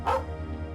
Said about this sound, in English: Oh, doggy.